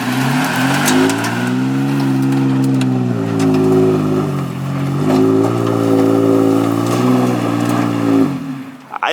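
A third-generation Toyota Tacoma TRD in 4 low revs hard while climbing through mud, engine pitch rising and falling in long strained surges as the tires spin, loud and close with no talk.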